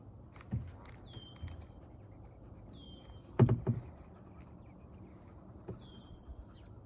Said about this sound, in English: those are some baby geese getting their brown feathers in